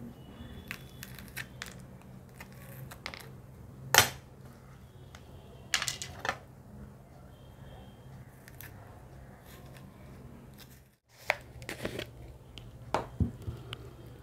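Seeds are scraped out of a halved bitter gourd in a kitchen, with soft intermittent scraping, small clicks and a few sharp taps against a bowl or knife, close and fairly quiet.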